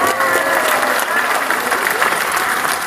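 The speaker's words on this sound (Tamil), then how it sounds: "நல்லா கைத்தட்டல்." A crowd at a polytechnic college awareness event in Karaikal breaks into loud, continuous applause, the dense clapping steady and close for the whole stretch.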